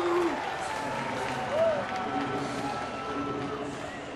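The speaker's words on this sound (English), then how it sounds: "And the Bronx cheer from the folks that are left." A thinned-out crowd at a 2012 Dodgers at Pirates baseball game gives a Bronx cheer, a broad, moderate wash of jeering noise heard under a commentator's talk.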